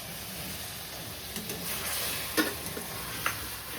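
Half a cup of hot water goes into a frying prawn and taro-leaf mixture in a pan, raising a steady soft sizzling hiss with occasional stirring clicks, fairly quiet and free of speech.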